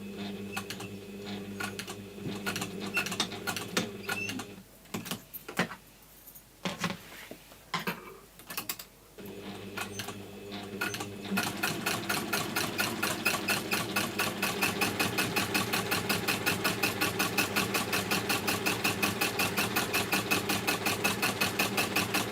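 A sewing machine top stitching a PU trim case, first in short uneven starts and stops, then settling into a steady, rapid mechanical stitching rhythm that runs continuously, close and loud with no talking.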